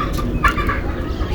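Chickens cluck close by in a short burst of overlapping clucks.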